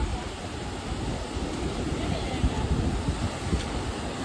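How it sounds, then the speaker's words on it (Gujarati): Sea waves break on the rocky shore at the Bhadkeshwar Mahadev temple in Dwarka, a continuous close roar of surf mixed with wind buffeting the microphone. "અહીંયા છેટ મોજા આવે"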